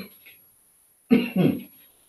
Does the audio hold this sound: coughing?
yes